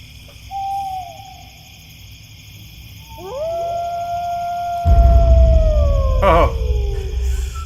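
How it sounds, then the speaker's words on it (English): Wolves howl in a creepy forest soundscape, several long rising and overlapping howls, the last ones louder over a swelling low rumble, with no talk. "Plus, of course, wolf howls."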